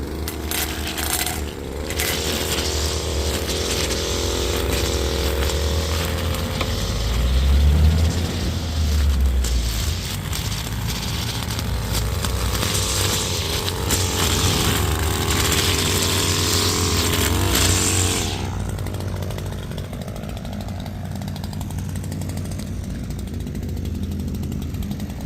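A power string trimmer runs steadily at close range during yard trimming, its engine whine holding a continuous loud drone for most of the stretch before dropping off toward the end.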